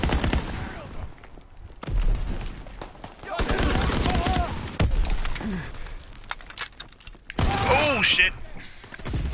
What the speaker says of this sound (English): Got drilled on that one by that shotgun